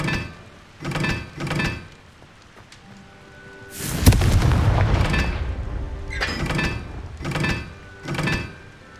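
Repeated Confringo blasting spells burst in Hogwarts Legacy: a series of short booming impacts, with one larger, longer explosion in the middle followed by more quick blasts.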